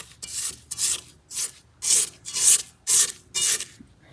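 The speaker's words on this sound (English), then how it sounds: "We're gonna go ahead and scrape it down." A spatula scrapes creamy cookie dough down the sides of a mixing bowl in seven rhythmic, evenly spaced strokes, each a close, rasping swipe with brief pauses between.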